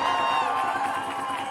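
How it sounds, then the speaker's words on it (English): A crowd at a ceasefire march and rally outside the U.S. Mission to the UN cheers and applauds in a sustained, dense roar of mixed voices. "Give yourselves a round of applause"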